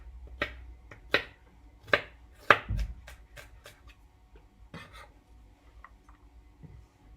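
A knife chops yellow pepper on a board for spring rolls: a handful of sharp, quiet, irregular strikes, a few louder ones early and softer taps trailing off.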